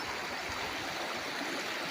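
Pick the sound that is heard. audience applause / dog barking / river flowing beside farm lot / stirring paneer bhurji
river flowing beside farm lot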